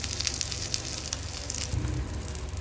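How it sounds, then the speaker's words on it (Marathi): Kachchi dabeli, a pav bun dipped in sev, sizzles as it fries in a hot pan. The sizzle is steady and crackling, and a louder burst of frying comes near the end. "या पद्धतीने दोन्ही साईडून आपण त्याला फ्राय करून घेऊ."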